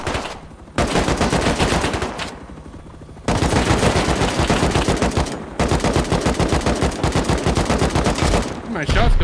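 Rapid automatic gunfire in the survival game Rust, dense bursts of crackling shots firing in long strings broken by brief pauses, loud and close.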